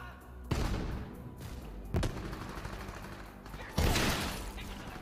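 Shots fired in Borderlands 3 land as three sharp, loud blasts spaced a second or two apart. Each one rings out over a low rumbling game background.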